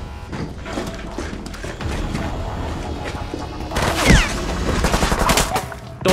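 Chaotic gunfire in a building shootout scene from the action film Hardcore Henry, rapid volleys of shots with crashing impacts and a loud burst near the end, under shouting voices.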